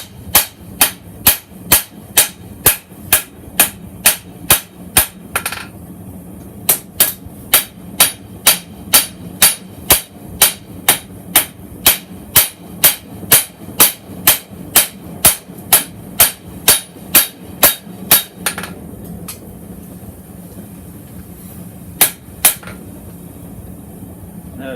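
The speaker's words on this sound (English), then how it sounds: "I switch down to my little dog's head hammer here." A small dog's head hammer striking hot steel on an anvil while forging a chef knife, delivering rapid, evenly spaced ringing blows in long runs with brief pauses, loud and close.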